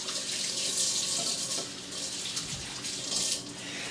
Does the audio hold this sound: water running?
yes